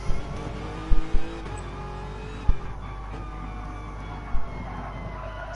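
A Lexus Group A race car in Gran Turismo Sport at Fuji International Speedway drones with a steady, tonal engine note, punctuated by a few sharp bumps or shifts, with no talk.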